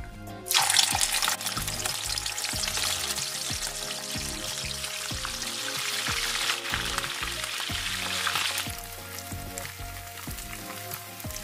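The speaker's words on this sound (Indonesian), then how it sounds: "Kemudian kita goreng." Beef slices for dendeng jerky go into hot oil and sizzle hard, starting with a loud burst and then settling into a steady crackling fry against background music.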